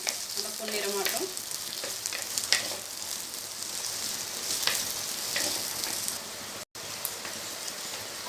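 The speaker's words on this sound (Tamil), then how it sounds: "எண்ணெய் காஞ்சதுக்கப்புறம் வெங்காயம் போட்டுக்கோங்க. வெங்காயம் நல்லா வதங்கட்டும்" Onions fry in hot oil for a Tamil pepper curry, milagu kuzhambu, giving a dense, continuous close-up sizzle and crackle with occasional stirring scrapes.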